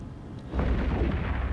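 Capital-ship weapons fire and explosions in the space game EVE Echoes during a fleet fight, a low rumbling boom swelling after a quieter start and sustaining as a dense, muffled barrage.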